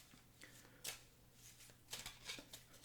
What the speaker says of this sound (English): What you'll do with this is you will shuffle this into the villain deck